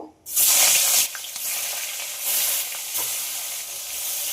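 Snakehead fish rubbed with salt and turmeric hit hot mustard oil with a sudden loud burst of sizzling that settles into a steady, close spitting hiss, swelling again in waves.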